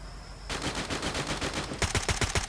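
Gunfire in the mobile battle royale game Free Fire, loud rapid automatic bursts starting after a brief pause and becoming heavier and punchier toward the end, with no talking over them.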